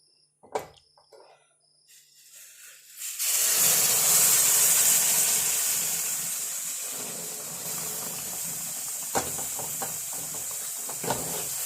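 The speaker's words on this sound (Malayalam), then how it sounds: "തിളപ്പിച്ച് വെച്ച വെള്ളം തിളച്ചിട്ടുണ്ട് ഈ വെള്ളം അങ്ങ് ഒഴിച്ചു കൊടുക്കാം" Boiled water pours into a dish with a sudden loud, rushing splash and hiss that begins after a few quiet clinks, then settles into a steady, softer flowing and bubbling sound close by.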